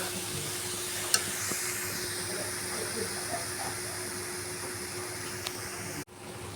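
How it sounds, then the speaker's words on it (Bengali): Grated coconut is stirred and dry-fried in a pan for sweet coconut naru, giving a soft, continuous sizzle with faint scraping stirs and an occasional sharp clink, quiet and close. "দেখো নারকেলটি ভাজা হয়ে গেছে"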